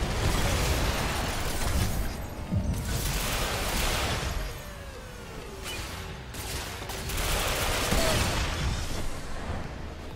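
Sniper rifle fire in the online shooter Ghost Recon Phantoms, with dense repeated gunshots and booming blasts layered over a constant rumble of battle, loud and busy throughout.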